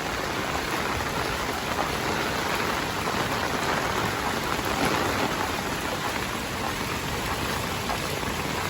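Heavy rain from Typhoon Carina pours down steadily, a dense, loud hiss of drops with no pauses and no voices.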